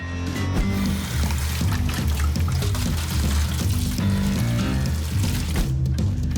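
Water pours and trickles steadily into a plastic yogurt pot being rinsed, a continuous close splashing flow with no talking.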